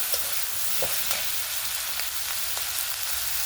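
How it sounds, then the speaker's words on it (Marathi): A spoon stirs and mixes dahi mirchi, chillies with curd, in a hot pan, giving a steady sizzle broken by a few soft scraping strokes, close and moderately loud with no talking. "पूर्ण आपण एकजीव करून घेऊया हळून."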